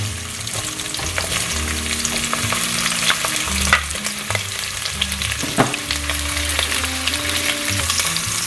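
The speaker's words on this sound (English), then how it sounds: "we just have to fry the sausages for some time" Sausages fry in a hot pan for a jambalaya, giving a steady, close, crackling sizzle throughout with occasional stirring scrapes and clicks.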